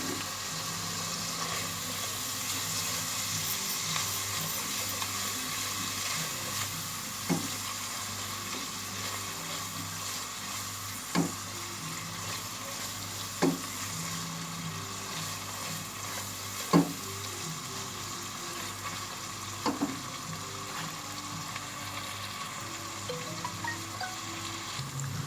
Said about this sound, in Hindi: अब हम इसकी अच्छी तरह भुनाई करेंगे तमाम स्पाइस के साथ।